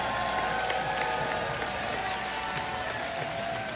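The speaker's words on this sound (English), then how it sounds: "everyone's still cheering" A large esports arena crowd at the League of Legends IEM San Jose final applauds and cheers the champion team Origin, a dense continuous roar of clapping and shouts.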